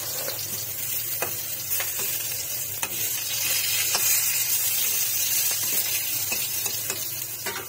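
Eggplant slices fry in plenty of hot oil in a wok, giving a loud, continuous sizzle dotted with sharp crackles and pops, close up with no talking.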